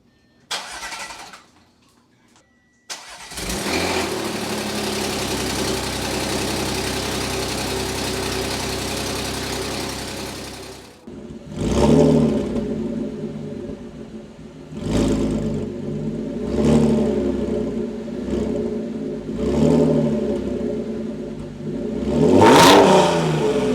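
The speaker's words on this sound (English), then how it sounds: "This car has been running for quite a long time and it sounds so incredibly good." An Audi S5 engine cranks and starts, runs steadily at a loud idle, then revs up several times in sharp bursts close by.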